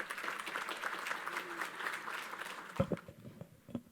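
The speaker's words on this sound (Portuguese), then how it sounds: "Uma salva de palmas para ela." Applause from a conference audience greeting the next speaker at a telecom panel, moderate and somewhat distant, trailing off into scattered claps and nearby speech toward the end.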